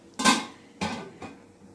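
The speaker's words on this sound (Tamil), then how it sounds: "இப்போ இன்னொரு தட்டத்துக்கு அது மேலே வச்சு மூடிட்டு" A plate is set on top of a steaming plate to cover it for elai vadam, giving three close ceramic clinks, the first strongest and the rest fainter, with nothing else heard.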